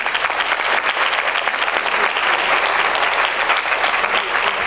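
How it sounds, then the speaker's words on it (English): Sustained applause from a room full of conference panel attendees, a dense, steady wash of clapping at close range that holds level throughout with no voices over it. "So I'd like to give the men in the room a round of applause."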